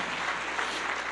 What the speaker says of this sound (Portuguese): Aplauda o Senhor Jesus, pode sentar.